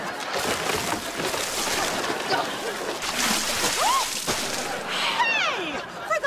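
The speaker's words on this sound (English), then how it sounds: "if you splash me with water, I won't melt!" Water splashes and sloshes repeatedly during a summer camp water fight, with bursts of splatter mixed with lively shouting and excited voices close by.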